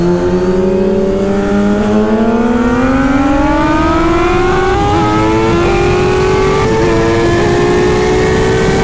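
Kawasaki Z H2 motorcycle (2020) at high speed, engine note climbing steadily through a gear in a loud, close, continuous roar with rising harmonics and heavy wind rush, no talking.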